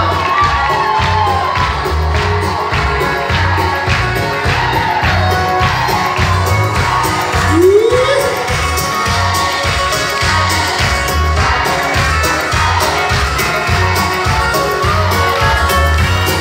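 Wedding guests cheer, whoop and clap loudly for the bride and groom over a pounding rhythmic dance beat, a dense, close crowd roar that stays strong throughout with occasional louder shouts.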